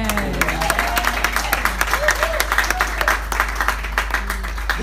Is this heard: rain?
no